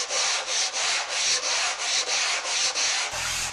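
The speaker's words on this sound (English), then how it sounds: "I just take some 80 grit hook and loop sandpaper" Hand sanding of wooden cove molding with 80 grit hook-and-loop sandpaper on a conforming pad gives a close, loud, rhythmic back-and-forth rasp, about eight even strokes, with nothing else heard.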